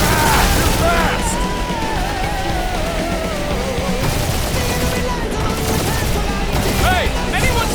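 Loud, rapid gunfire and booming blasts rage through a battle in the Marvel's Guardians of the Galaxy video game, dense and continuous, while voices talk over the chaos.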